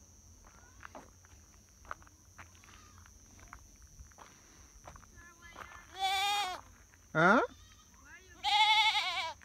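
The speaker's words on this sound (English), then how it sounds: "Is it your goat?" A goat bleats three times, loud and close, along an evening walk in Malton, Manchester, Jamaica, with soft footsteps and brief speech in between.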